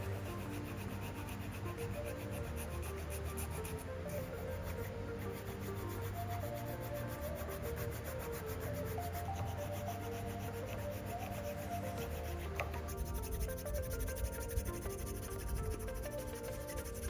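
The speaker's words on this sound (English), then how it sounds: "Using small files, I start to refine the tang slot." Small metal files scrape back and forth as they refine the tang slot in a chef's gyuto knife handle, a steady close rasping without pause.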